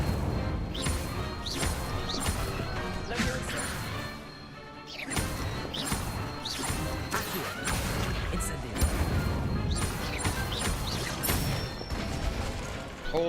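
A fire spell is cast in Hogwarts Legacy in the middle of a duel, with loud crashing impacts, whooshes and booms layered over game music and rapid combat effects that run continuously, dipping briefly before picking up again.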